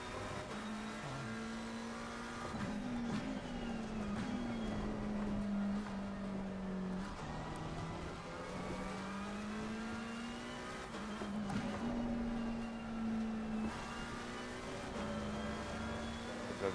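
A race car engine in the driving game Assetto Corsa drones continuously. Its pitch climbs and falls with shifts and revs through a lap, and it plays alone at a moderate level.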